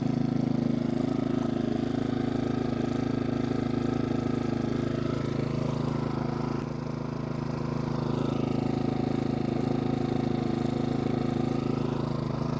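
A fuel-injected GM4600iAEFIC inverter generator idles with a steady, even hum, its engine note shifting slightly in the middle as it changes between high and low idle, with no speech over it.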